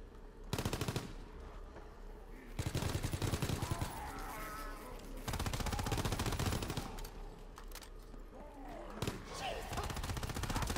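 Rapid bursts of automatic gunfire from Call of Duty WW2 Zombies gameplay come in several long volleys with short pauses between, loud and close, while a player talks intermittently over the shooting.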